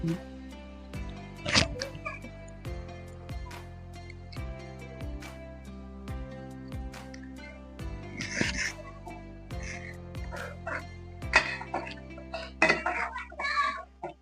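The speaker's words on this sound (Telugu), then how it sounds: "ఇప్పుడు ఈ ఉప్పులు కారాలన్నీ కలిసేటట్టు కలుపు ఇచ్చేస్తున్నాను నేను" Salt and chili spices being mixed into a pulasa fish curry in a pot, with repeated scraping and clinking of a metal spoon against the vessel and some wet squishing, close and moderately loud.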